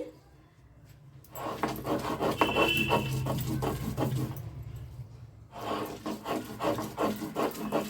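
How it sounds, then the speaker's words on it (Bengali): Fried ingredients are ground on a stone slab with a rough, rhythmic rubbing and scraping that starts after a quiet moment, pauses, then resumes. The sound is close and moderately quiet. "এবার এটাকে আমি শিলে বেটে নিচ্ছি"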